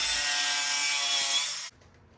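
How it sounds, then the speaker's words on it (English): Circular saw scoring a thick metal plate along a clamped steel angle guide, a loud harsh grinding whine close up that cuts off abruptly near the end, leaving quiet rattling. "clamping down a piece of angle as a guide against the circular saw and setting the depth right here so I don't cut all the way through"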